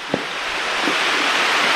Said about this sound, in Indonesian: Pemandangan ini yang ketiga, ini air terjun yang kecil.